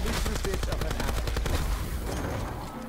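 Rapid automatic gunfire in the zombies mode of Call of Duty Black Ops 4, a loud sustained burst of shots for about two seconds that fades away, with faint speech mixed in.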